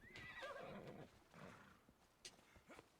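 A horse in Assassin's Creed Odyssey neighs loudly in a long, shaky whinny, followed by snorting and a few soft clip-clop hoof sounds with faint background noise.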